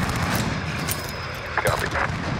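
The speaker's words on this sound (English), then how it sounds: "This is Dragon, we're taking some fire." Gunfire in the Modern Warfare video game, sharp bursts of shots and booms over a dense rumbling battle bed, with brief game voice audio.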